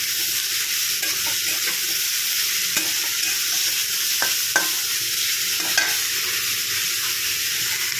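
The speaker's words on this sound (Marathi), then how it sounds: "तो यामध्ये आपण छान असा फ्राय करून घेणार आहोत।" Chopped tomato frying with onions in a pan for an okra dish, a steady close sizzle with occasional scrapes and taps of a stirring spoon throughout, no talking.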